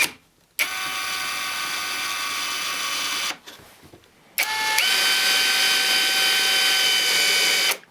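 ProCraft brushless drill driver running to drive small 2.5 by 13 mm furniture screws, a steady whirring motor in two long runs separated by a short pause, the second run higher and louder, no talking.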